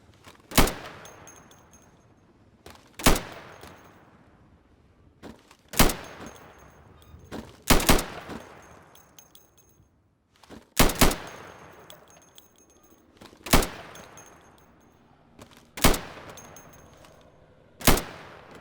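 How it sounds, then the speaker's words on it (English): Pistol sidearm fire at pop-up targets on the training map of the Insurgency video game, eight sharp loud single shots spaced a couple of seconds apart, each followed by a decaying echo tail. "So you can shoot accurately over 20 feet with your sidearm."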